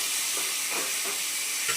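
Mango chutney with grated ginger and boiled mango cooking in a pan, a brief hissing sizzle with a few soft scraping stirs, close and fairly loud.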